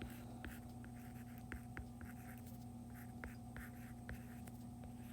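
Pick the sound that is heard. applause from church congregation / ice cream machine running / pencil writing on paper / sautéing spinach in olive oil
pencil writing on paper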